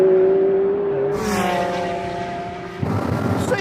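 A Lamborghini Aventador Roadster and a McLaren 720S Spider roar side by side in a rolling drag race, with a high engine note climbing and then a gear change bursting into a harsh, louder howl.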